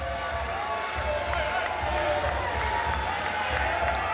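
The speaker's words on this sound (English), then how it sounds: "you can hear the crowd" A basketball arena crowd at a Franklin Bulls v Canterbury Rams game holds a steady loud roar, with bursts of noise and a commentator talking over it.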